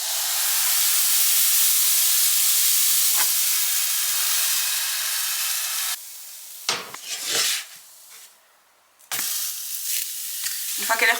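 Buckwheat galette batter cooks in a hot pan with a little oil, giving a steady loud sizzle and hiss for several seconds, then brief scraping and stirring, a short lull, and the sizzle again.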